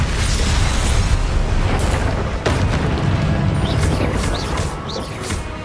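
Spell explosions from the Confringo curse in the video game Hogwarts Legacy, a run of loud, booming bursts and crashes layered with magical whooshes and combat effects, dense and continuous with no speech.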